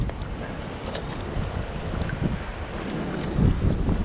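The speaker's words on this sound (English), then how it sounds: "The wind, dude. I made it. Dude, the wind blew me." Strong wind buffeting outdoors at a shallow fishing spot after a thunderstorm, a steady low roaring rush with gusts swelling louder near the end, no talking.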